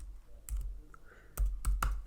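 A handful of sharp clicks from a computer keyboard while code is typed, with a single keystroke followed by a quick cluster of three, close and quiet.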